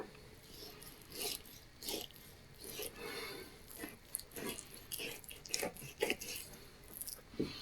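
Someone chewing a tough piece of steak close to the microphone, with irregular wet bites and squishy mastication sounds over faint background noise.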